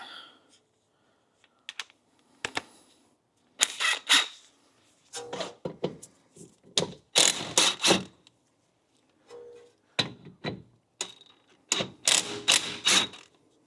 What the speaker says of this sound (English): let's see if we can get our gun in here and loosen that up.